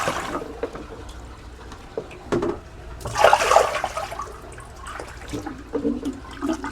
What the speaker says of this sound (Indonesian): Airnya dibuang alon-alon.